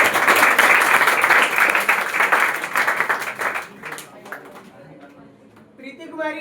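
Loud audience applause at a Bihar Board topper felicitation ceremony held by a coaching centre, dense clapping for the first four seconds, then thinning out and fading to scattered claps.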